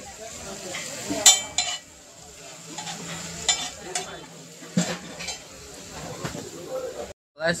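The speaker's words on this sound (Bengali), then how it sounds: "এই যে পেঁয়াজ কষাচ্ছি" Onions frying and being stirred in a pan for a meat dish, with intermittent scraping and clinking strokes over a low sizzle, under occasional faint voices nearby.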